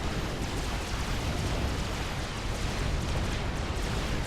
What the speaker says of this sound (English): The hoplites fire a volley.